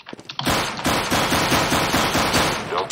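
Rapid automatic gunfire from the video game CS:GO, a loud, close, dense stream of shots that carries on almost without pause for about two and a half seconds after a few lighter clicks.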